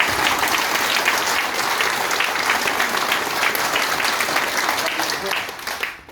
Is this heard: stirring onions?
no